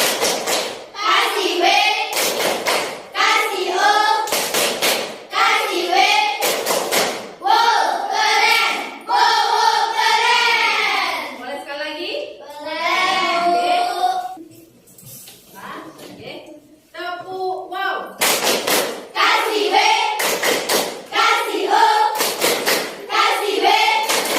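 A class of children performs the rhythmic 'tepuk wow' clapping chant, with sharp bursts of group claps alternating with chanted voices, loud and close, and a teacher's voice joining at points.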